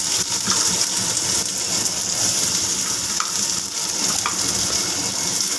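Chopped onions and whole cumin seeds fry in hot oil in a pan, giving a loud, steady, hissing sizzle heard close up for the whole stretch.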